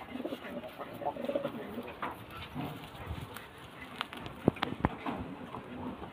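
A pigeon coos softly amid a busy, noisy background, with a few sharp clicks and taps close by.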